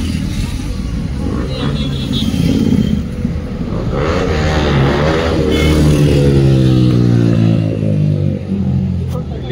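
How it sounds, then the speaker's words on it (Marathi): A sport motorcycle's engine rises and falls as it passes nearby, its revving tone sweeping through, with a steady roadside roar and some talk underneath. "अजून एक कुठची तरी बाईक येते, मला आवाज येतोय"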